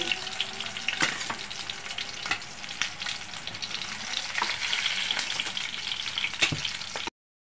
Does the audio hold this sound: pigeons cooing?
no